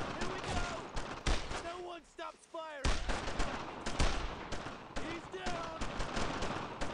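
Gunfire in the World War II shooter Brothers in Arms: dense, continuous bursts of shots with a brief lull near two seconds, mixed with shouted voices and battlefield noise.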